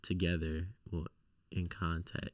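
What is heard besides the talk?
No everyday noises stand out.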